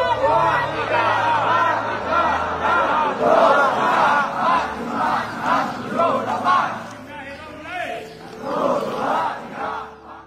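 A large crowd yells together in loud, rhythmic bursts, voices rising and falling in unison, close and sustained throughout.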